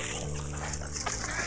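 An angry dog, a Rottweiler or pit bull in a confrontation, barks and growls in a dense, noisy scene, loud and steady throughout with other background sound.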